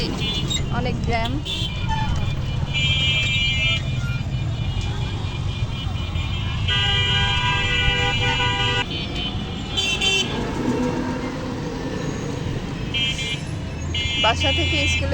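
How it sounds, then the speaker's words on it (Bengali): A morning road traffic jam with engines idling and repeated car horns honking in short and longer toots from nearby and farther vehicles, while people talk over the street noise. "সকাল সকাল রাস্তায় অনেক জ্যাম।"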